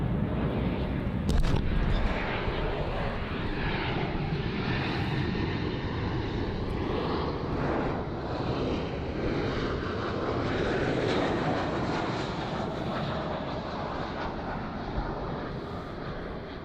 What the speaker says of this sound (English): This is SAS flight SK2875 coming in from Bergen. It's another Embraer E195LR.